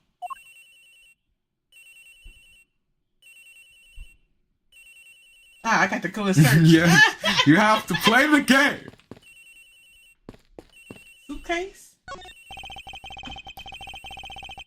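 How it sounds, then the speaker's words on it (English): Repeated electronic phone ringing from the Ace Attorney Investigations game on an airliner, a regular series of short beeping rings, interrupted midway by someone speaking, then a different sustained ring tone at the end. "Agent Hicks's phone! It's ringing from somewhere, sir!"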